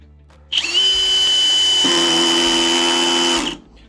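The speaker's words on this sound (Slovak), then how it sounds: "Začíname testom mechanickej spojky na prvej rýchlosti a prvom nastavení sily na režime skrutkovania." A Hilti SF 4-22 cordless drill driver in screwdriving mode at first speed and the lowest clutch setting gives a loud, steady motor whine for about three seconds, starting and stopping abruptly, with a slight shift in tone midway.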